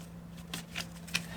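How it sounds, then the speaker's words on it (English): Playing cards are shuffled close up in a few quick riffle bursts over a steady low hum. "I'm gonna do a shuffle again, just because I did it last time."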